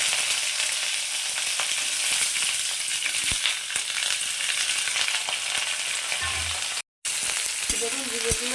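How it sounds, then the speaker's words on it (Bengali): Sliced ridge gourd crackles and fries in a little hot oil in a wok, a steady dense sizzle throughout, briefly cut out near the end before a few clanks of the pan. "তেলটা আমার গরম হয়ে গেছে। এবার আমি ঝিঙেগুলোকে এর মধ্যে দিয়ে দিচ্ছি।"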